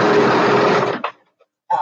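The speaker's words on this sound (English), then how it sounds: "I'm just going to quick stitch this portion" A sewing machine runs in a quick, steady whirring burst for about a second while stitching fabric, then stops, and a voice is briefly heard afterward.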